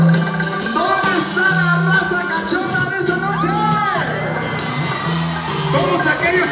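A concert crowd at a show in Colón shouts and cheers loudly and continuously, a dense swell of whoops and yells with voices mixed in.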